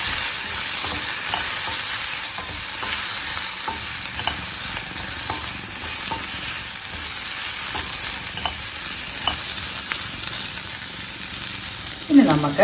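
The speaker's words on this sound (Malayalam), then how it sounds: "നമുക്കിതൊന്നും നല്ലപോലെ ഇളക്കി കൊടുക്കാം" Oil and seasonings sizzle loudly and constantly in a pan while being stirred for long bean stir-fry, a close, even hiss with faint spatula taps and a brief clatter at the end.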